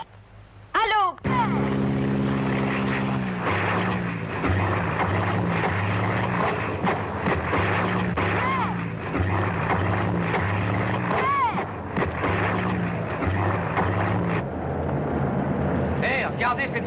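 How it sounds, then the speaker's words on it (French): A propeller airplane drones steadily overhead in a French crime film, its engine hum continuous and fairly loud, with dialogue and music running over it. "Hé, regardez cet avion!"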